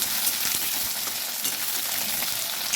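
Potatoes frying in a covered pan, a dense continuous sizzle with light crackling pops throughout, close and fairly loud.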